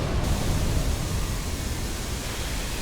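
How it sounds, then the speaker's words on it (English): Steady, loud roaring hiss of the dragon Midir breathing fire in Dark Souls 3, a dense unbroken rush like a blowtorch or waterfall lasting the whole stretch, with no voices. "He's spitting fire."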